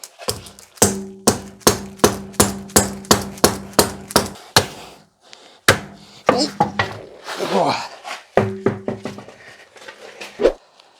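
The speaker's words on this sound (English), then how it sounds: "The dead blow hammer." Repeated sharp, solid dead blow hammer blows ring out in a steady rhythm, close by, followed by scraping and a few more scattered strikes, during front brake work on a BMW E66 740Li.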